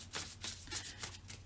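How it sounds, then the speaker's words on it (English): Tarot cards shuffled by hand in a series of quick, close riffling bursts, crisp papery flutters repeating about every half second. "I always like to shuffle on camera"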